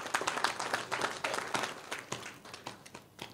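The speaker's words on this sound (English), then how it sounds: "Please give them a round of applause for that." Audience applause at a power company's annual general meeting, a brief burst of clapping from the crowd that starts fairly full and thins out, moderately loud.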